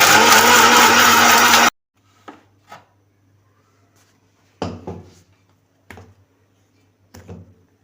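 A mixer grinder whirs loudly and steadily for a little under two seconds while grinding spice masala paste for chicken biryani, then cuts off, followed by a few faint knocks and handling sounds.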